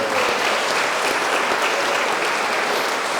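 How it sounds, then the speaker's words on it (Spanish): Thick, steady applause from an audience fills the whole moment, loud and close, with no voices rising above it. "Un día más un aplauso para nosotros, por favor."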